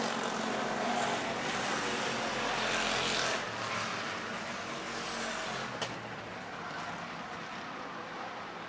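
Race cars in a heat race at Motordrome Speedway roar past in a broad, continuous engine wash, loud at first and easing slightly, heard from trackside with a brief sharp knock near the end.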